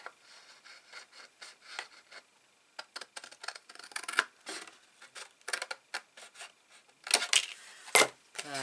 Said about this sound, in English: I'm getting a longer scissors because I can cut away the score line properly then.